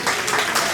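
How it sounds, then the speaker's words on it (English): A crowd at a graduation ceremony gives a short burst of applause, with dense clapping running throughout. "the students here can give them a round of applause"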